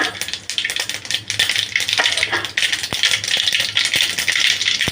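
Mustard seeds splutter and pop in hot oil in a pan, a dense, close crackling rattle with irregular sharp snaps running continuously.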